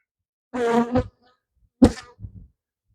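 Honey bees from a captured swarm buzzing close by, two short loud bursts of droning buzz separated by a brief pause, with quiet between them.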